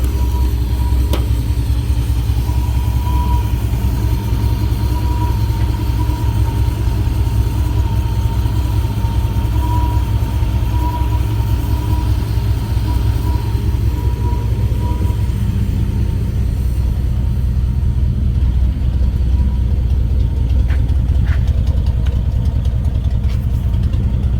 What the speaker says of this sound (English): the truck sounds freaking amazing.